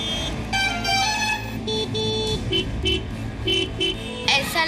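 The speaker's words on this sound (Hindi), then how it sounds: "ट्रैफिक सिग्नल पर हॉर्न।" At a city traffic signal, several car horns blare in short repeated toots and longer blasts over steady engine and road noise, loud and close.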